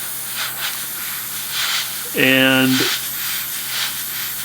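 An airbrush gives off a steady, soft hiss as it sprays paint onto a Tamiya 1/48 Spitfire Mk I model kit; someone briefly speaks partway through.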